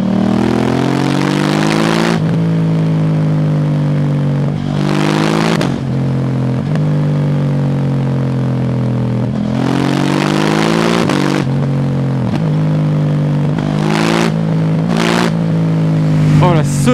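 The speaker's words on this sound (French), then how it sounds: "Sonorité du moteur et de l'Akrapovic." A KTM 790 Duke motorcycle with an Akrapovic exhaust, heard riding with a loud, steady engine note that rises and falls through repeated revs and gear changes, plus brief crackles between pulls.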